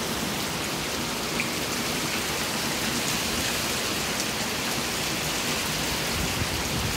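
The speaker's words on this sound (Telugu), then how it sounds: "చూడండి, ఫుల్ వర్షం" Heavy rain pouring on a terrace garden, a dense, steady, even hiss of drops close by, unbroken for the whole stretch with no voices.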